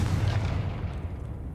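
A Confringo spell blast in the Hogwarts Legacy video game, a dense low-heavy boom that stays loud for the whole moment with no talk over it.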